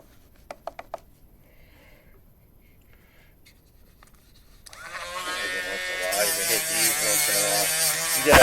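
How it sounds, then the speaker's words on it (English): A Dremel rotary tool buzzes up to a high whine as it cleans the corroded contacts on a Tyco slot car, coming in after a few faint clicks and taps and growing louder toward the end. "I just hit them with the Dremel."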